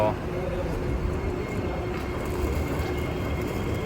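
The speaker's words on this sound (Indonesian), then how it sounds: "mau lihat kereta api jalan sini" A steady rumble of a train passing close by, with a constant mechanical roar holding level throughout.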